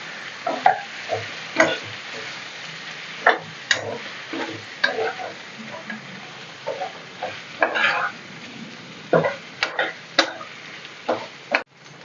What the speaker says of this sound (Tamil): கொஞ்ச நேரம் நல்லா எண்ணெயில் வதங்கணும்.